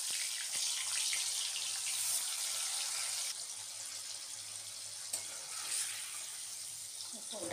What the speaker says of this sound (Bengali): ওটা গরম মশলা ফোড়ন,